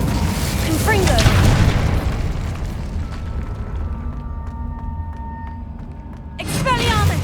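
An explosive Confringo spell goes off in Hogwarts Legacy, a loud booming blast that rumbles and fades, then another burst near the end, amid dense game sounds.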